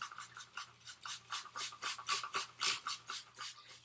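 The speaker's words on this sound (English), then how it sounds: "This is wet sanding, so we gotta clean this a little bit," A headlight lens is wet sanded by hand with a 3M restoration kit, making a steady series of quiet, rhythmic rasping strokes, about three per second, close up.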